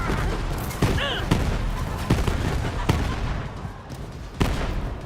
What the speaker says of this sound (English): What the frickin' hell are you shooting at me with?